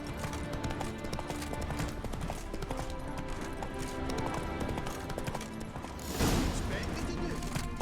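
Roach, the horse in The Witcher 3 game, trotting with steady clip-clop hoofbeats amid busy game ambience, with a louder burst of noise near the end.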